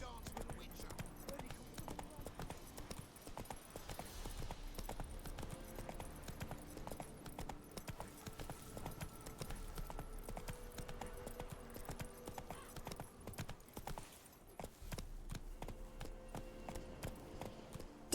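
Roach, a horse in The Witcher 3, gallops at a quick steady pace of faint hoofbeats while a person talks over the game sounds throughout.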